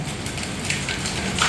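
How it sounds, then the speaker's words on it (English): Hail and rain pour down during a severe thunderstorm in Havre, Montana, a steady dense hiss of falling drops and ice pellets with no talk over it. "Hailstorms are coming down."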